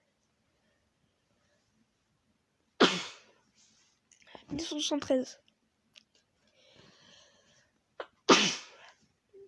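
Two sharp, close coughs several seconds apart, with a short stretch of quiet speech and rustling between them.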